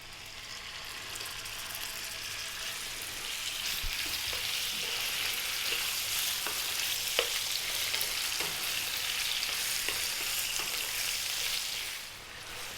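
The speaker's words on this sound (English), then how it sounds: "we're going to drop the beef in, the cubed beef, and we're going to cook it for about 5 or 6 minutes to get a bit of color on it" Cubed stewing beef for a slow-cooked curry sears in a pot with a loud, dense, continuous sizzle and occasional pops, steady for the whole stretch before easing at the end.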